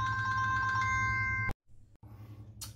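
A phone rings for an incoming call from a family member: a steady electronic ringtone with repeating tonal pulses that cuts off abruptly, followed by quieter room noise and a faint click.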